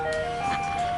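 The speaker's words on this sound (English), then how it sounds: "came by with his ice cream truck" An ice cream truck passes close by, its steady electronic jingle tone ringing over a continuous motor rumble, loud and alone.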